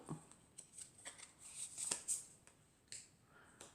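Oracle cards shuffled and drawn by hand, giving a string of soft riffling and snapping flicks with brief crisp peaks, close and fairly quiet, with no talking.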